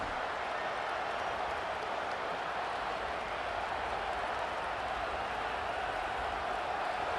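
Stadium crowd roar from EA Sports College Football 27 after an onside kick recovery, a steady, dense wash of cheering and noise that holds at an even level throughout, with no clear voices standing out.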